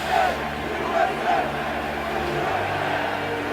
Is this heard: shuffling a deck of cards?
no